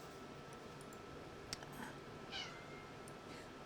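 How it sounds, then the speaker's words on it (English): A small house cat gives a short meow at fairly low level, surrounded by faint clicks and ticks, like a mouse or keyboard in a quiet room. "Now Tiny Cat's screaming"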